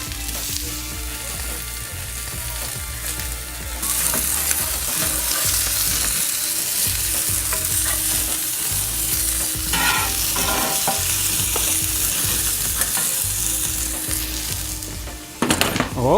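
Grass-fed Irish beef steak sizzling on a lower grill grate, a loud continuous sizzle that jumps louder after a few seconds and carries on with crackles, ending in a few sharp knocks.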